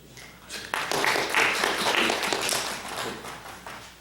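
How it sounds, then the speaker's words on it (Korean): A seminar audience applauds at the end of a research presentation on polyamide membranes, rising into a steady patter of hand claps that runs for several seconds before slowly thinning out. "박수 좀 쳐주세요."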